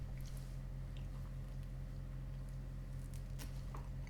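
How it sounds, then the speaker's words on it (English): Close-up chewing of thick, zesty beef jerky, a tough chew with steady wet squishing and biting under a constant low background hum, no speech. "It's a pretty tough chew, as you probably have already gathered."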